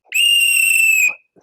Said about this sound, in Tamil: நேத்துல இருந்து இந்த விசில் சவுண்ட் கேட்டு கேட்டு டார்ச்சரா இருக்குது.